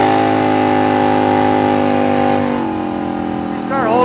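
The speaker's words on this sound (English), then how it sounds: "your decel sounds really nice and smooth. The acceleration's nice and smooth as well" A car's exhaust note sounds close and steady as the engine decelerates, then shifts pitch as it picks up again, and someone talks over it throughout.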